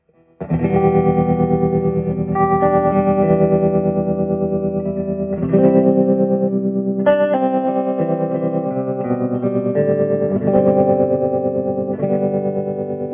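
An electric guitar rings out sustained, effect-laden chords through a Silvertone 1484 amplifier, cleaned after mouse infestation, with a pulsing tremolo, loud and close, several chord changes and no talking.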